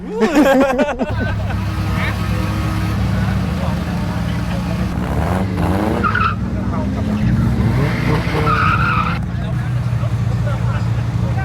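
A wide-body Mercedes 190E with an engine built by a Bangkok tuning shop is driven hard at a crowded Thai car meet. Its engine roars steadily while tires screech in bursts, under loud crowd chatter and talk.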